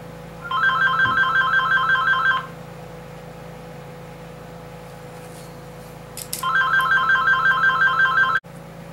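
A phone rings with an incoming call in two electronic bursts of warbling tones, each about two seconds long, separated by a quiet gap, loud and close with no talking.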